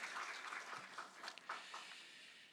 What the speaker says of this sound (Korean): 우리 축하의 박수 하십시다.